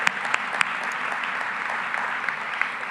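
Applause for a DJ at an annual leadership foundation event, a continuous, even wash of clapping from a large room, moderately loud, with a few sharper claps popping out.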